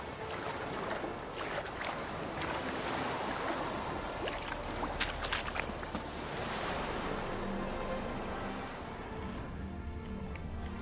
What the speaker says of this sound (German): deswegen schwimmen wir hier mal weiter